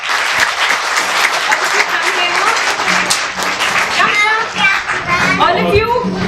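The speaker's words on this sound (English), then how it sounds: "Can you give a big round of applause to everyone?" Children clapping loudly in a crowd at a kids' public speaking talent hunt, a continuous burst of applause lasting several seconds, mixed with kids' voices chattering and calling out.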